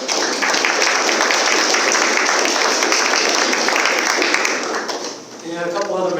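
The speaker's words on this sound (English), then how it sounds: "I want a round of applause for Pat and John" An audience at a student research symposium applauds for several seconds, a dense, sustained clapping that fades near the end as a voice begins speaking.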